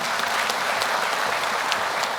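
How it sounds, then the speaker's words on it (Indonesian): A television talent show audience claps steadily for a couple of seconds, dense overlapping applause without any voices. "boleh tepuk tangan untuk Dewan Juri"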